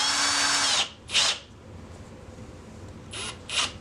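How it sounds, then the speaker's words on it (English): A power drill whirs in short close bursts during kitchen plumbing work, a longer run followed by several quick trigger pulls with brief pauses between, no talking. "Then we just take our drill and slap on the piece."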